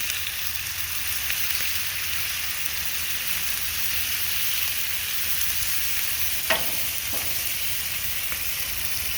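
Teriyaki-brushed chicken and pork sizzle steadily on a grill in a loud, continuous hiss, with a couple of brief sharp clicks near the end and no voices.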